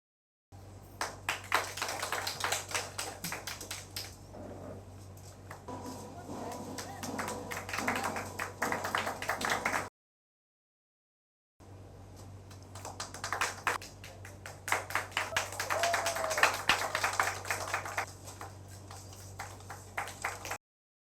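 An audience claps at a gathering at the Hindustani Prachar Sabha office in Mumbai, with scattered, fairly faint individual claps in two bursts separated by a short silent gap.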